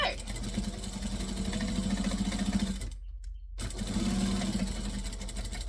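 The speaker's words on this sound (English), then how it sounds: "I'm going to stitch, back stitch, and then sew along" A sewing machine runs in steady close stitching, cuts out for a brief pause, then resumes for a back stitch while a voice talks over the motor's hum.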